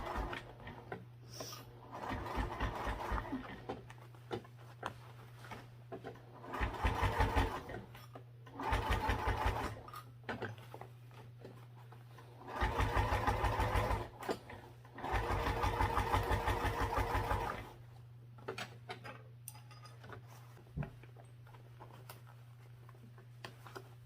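A sewing machine stitches a tough seam on a baby sling in several separate bursts of rapid mechanical chatter, some short and some several seconds long, with quiet gaps between them filled by a low steady hum and small handling clicks.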